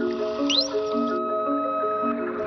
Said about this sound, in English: there is one kind of sound dolphins make that is much more unusual. It's called the signature whistle.